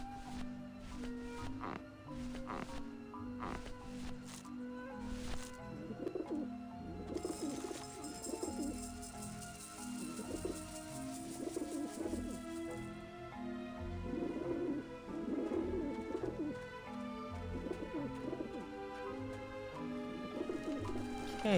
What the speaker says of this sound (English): the pigeons obviously like this dish vent